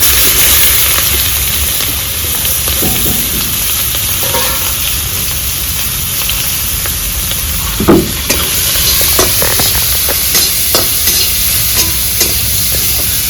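Whole cumin seeds and chopped onion fry in hot oil in a village kitchen, giving a steady loud sizzle and hiss throughout, with occasional clinks and scrapes of stirring and no talking.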